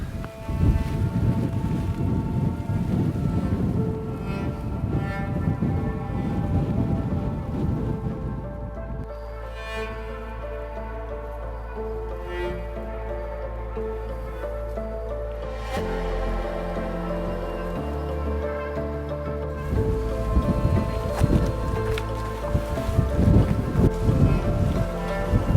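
Strong wind buffets an exposed Hawaiian ridge, a steady loud roar rushing across the microphone for the whole stretch, easing slightly in the middle before gusting harder again.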